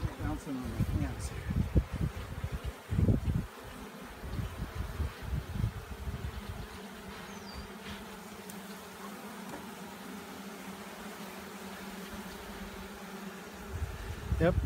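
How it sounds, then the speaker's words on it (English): Honey bees buzz in a steady drone around an open swarm-trap hive during an outdoor colony inspection, a continuous hum with rustling and handling noises, while people talk over it. "This hive is full of bees."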